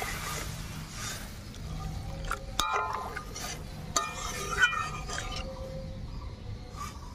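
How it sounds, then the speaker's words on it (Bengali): Water is poured into a pan of potatoes fried with curry masala for a green-banana kofta curry, a soft splashing pour with a few metallic clinks of utensils against the pan. "এবার জল দিয়ে দেবো।"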